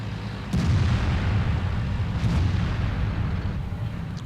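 Heavy tank cannon fire in World of Tanks: two deep, booming shots about two seconds apart over a constant low rumble of engine and battlefield noise, with no voices.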